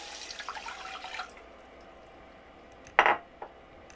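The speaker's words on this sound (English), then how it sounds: "And then we add the water." Cold water poured into a pot of rice seasoned with salt and turmeric in a tiny off-grid kitchen, a short splashing pour followed by a brief clatter of the pot.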